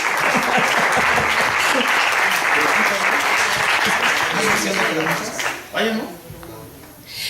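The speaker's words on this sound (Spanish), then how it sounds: "Demos un fuerte abrazo y aplauso." Audience applause at a panel discussion on death, sustained loud clapping from a crowd that tapers off toward the end, with a voice emerging as it fades.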